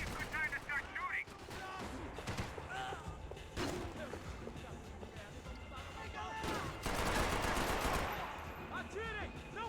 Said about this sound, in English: This might be a good time to start shooting.